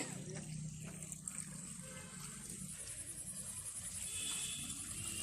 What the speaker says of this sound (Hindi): उसके बाद पानी चालू करके